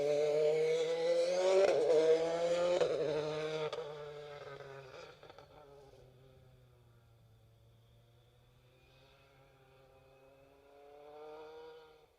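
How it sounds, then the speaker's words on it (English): A Citroen C3 Rally 2 rally car, number 12, on a foggy rally stage gives a loud, strained engine roar for a few seconds. The roar then fades to a distant drone and swells slightly again near the end. "Being chased down by a rapidly approaching car number 12, John Rinto with Ross Hind in the Citroen C3 Rally 2."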